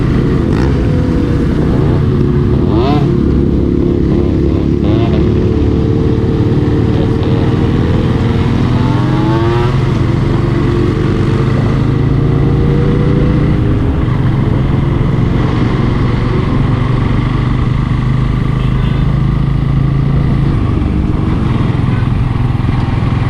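Pulsar N160 motorcycle climbing the winding Nandi Hills ghat road, its engine droning steadily and close throughout with wind rush, the pitch sweeping up and down as it shifts and accelerates on the bends.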